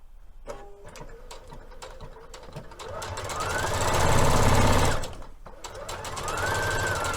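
A sewing machine top stitches the fabric of a Liberty London palazzo suit, short clicks and bursts building into a fast, steady whirring run that pauses and then resumes.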